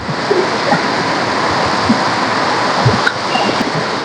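Steady rushing water flows without pause, a broad continuous wash with a few faint splashes and no voices.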